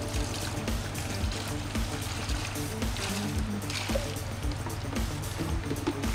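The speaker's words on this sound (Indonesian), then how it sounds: "Nah, ini siram pakai ini 1 liter." Water from a one-liter measure poured over the culture medium in an eel farming recirculation setup, a steady broad splashing trickle running throughout over a constant low pump hum.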